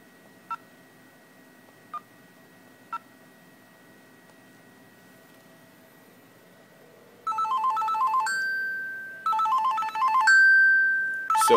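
An X-Lite softphone rings for an incoming call routed through an Asterisk server on Ubuntu 9.10, with a few faint clicks first, then repeated loud electronic ring bursts filling the last several seconds.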